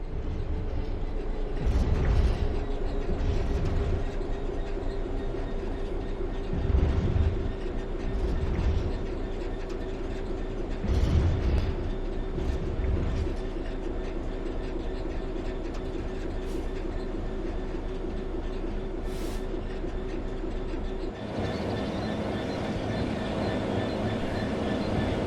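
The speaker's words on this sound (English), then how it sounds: "The train will then coast on level ground, and the train will only slow down very gradually." Train Sim World 3 locomotive coasting on level track with throttle at zero, a steady low rumble and wheel drone running throughout, with periodic clunks and faint ambient bird cooing over the top.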